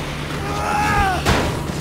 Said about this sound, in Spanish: porque esto explota luego. La caja explota